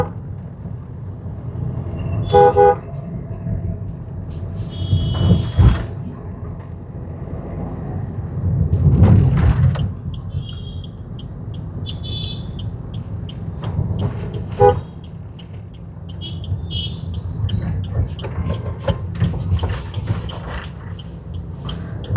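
Afternoon street traffic in Hyderabad hums under a low engine rumble, broken by several short car horn toots and honks scattered throughout, some near and loud, others farther off.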